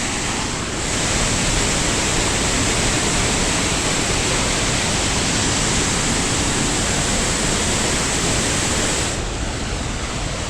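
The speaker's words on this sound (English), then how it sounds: "Waterfall number 3 we're making our way down to." A waterfall in the Rocky Mountains of Alberta roars as a loud, steady broadband rush that fills the whole stretch without a break, with no voices over it.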